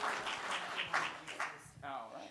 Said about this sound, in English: All right, give him a round of applause.